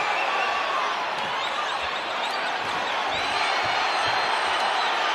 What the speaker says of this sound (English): the crowd is loving this